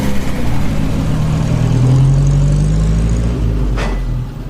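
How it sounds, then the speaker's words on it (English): An early motor car of around 1913 rumbles along a country lane, a loud steady low engine drone running throughout with a brief whoosh near the end, no voices. "The motor car zoomed along the country lane."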